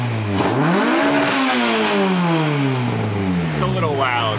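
An LS3-swapped Porsche 911 revs close by, the raspy V8 engine note climbing and falling through a couple of sweeping throttle blips, loud and prominent against the background.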